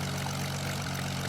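A plane flying in the Roblox video game gives a loud, continuous engine drone with a steady low hum that fills the whole short stretch, with no voices over it.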